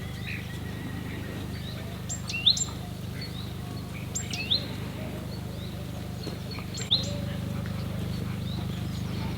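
Brief high chirps from birds ring out a few times over a steady low engine hum.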